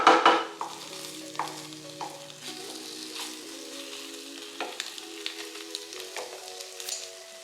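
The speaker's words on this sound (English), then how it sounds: "I'm gonna put a bay leaf here in the middle and let it kind of toast a little bit." Garlic and a bay leaf sizzle gently in oil in a pot for chicken and rice, a soft, steady frying hiss broken by scraping stirs and light clinks, close by and without speech.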